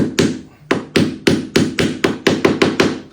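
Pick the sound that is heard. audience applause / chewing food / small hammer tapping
small hammer tapping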